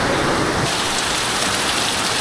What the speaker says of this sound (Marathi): पाऊस पण मस्त पडतो आहे, जोरात आहे.